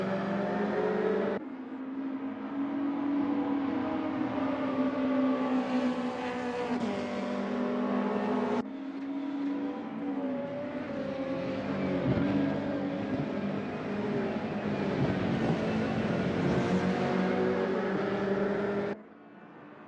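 Race car engines in a sim racing touring car series event, including a BMW, a sustained loud engine drone rising and falling with gear changes and revving, close and continuous with abrupt cuts between cars.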